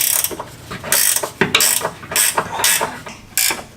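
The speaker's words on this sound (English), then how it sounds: "Having a ratcheting wrench definitely helps in this situation." A ratcheting wrench works 10 millimeter bolts loose while installing tubular rocker guards on a 4x4, loud close bursts of rapid clicking in short strokes, about half a dozen back-and-forth swings.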